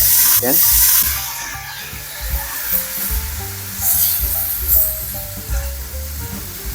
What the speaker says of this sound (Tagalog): tapos pan-fry lang natin ang ating chicken